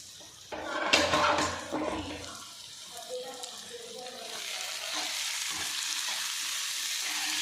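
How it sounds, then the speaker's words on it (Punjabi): A tadka tempering with spices in hot oil is poured into cooked dal with ridge gourd, making a sharp sizzling burst with clatter, then a steady hissing fry that carries on. "ਹੁਣ ਅਸੀਂ ਇਹਨੂੰ ਤੜਕਾ ਲਾਵਾਂਗੇ"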